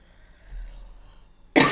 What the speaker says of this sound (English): As soon as I start reading, I want to cough.